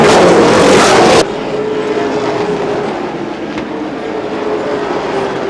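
Stock race cars circle Anderson Speedway during a CRA All Stars Tour race, a loud engine roar close by for the first second, then a steadier, more distant drone of cars running laps.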